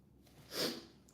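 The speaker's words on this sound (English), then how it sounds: "I'm getting the sniffles." A single short sniff, close and quiet, drawn in through the nose.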